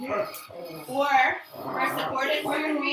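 A dog barks and whimpers indoors during an online yoga class, yelps and whines popping up repeatedly beneath a woman's steady instructional speech.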